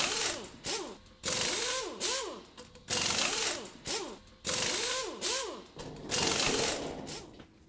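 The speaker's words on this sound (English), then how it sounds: "remove all the screws that hold the back panel on with a quarter inch nut driver" A powered quarter-inch nut driver whirs in short repeated bursts, removing screws from an appliance's back panel, its pitch rising and falling with each run as screws spin out, close and fairly loud.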